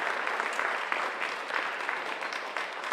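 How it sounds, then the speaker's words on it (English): Steady applause from an audience at an academic event honoring research fellows, an even wash of clapping that holds for a few seconds with no talk. "Can we have another round of applause for our amazing fellows?"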